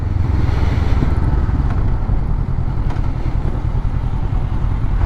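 A Honda CBR500R motorcycle engine runs while riding, a steady close rumble mixed with broad wind roar, constant in level with no voices.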